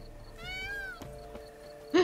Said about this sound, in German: War das eine Katze?